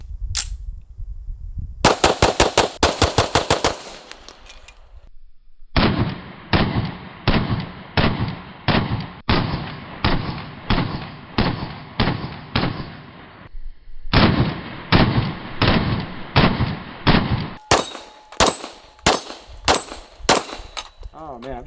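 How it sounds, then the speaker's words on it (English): Pistols fire at a shooting range, a Springfield Armory 1911 DS Prodigy against a Staccato XC. Loud, close single shots come in rapid strings of steady shots, broken by short pauses between strings. "Let's load up some more and keep on shooting."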